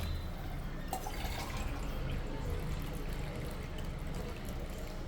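Water poured into a pressure cooker of rice for chicken pulao makes a faint, continuous trickling and splashing over a low background rumble.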